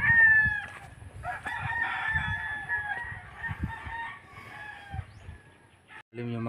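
Chickens cluck and a rooster crows near a rural home, the calls repeating irregularly and close by over quiet background noise.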